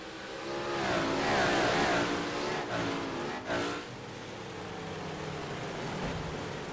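Big Block Modified race cars thunder around the dirt oval at Williams Grove, a loud, steady engine roar that swells and eases as the pack passes, with no talk.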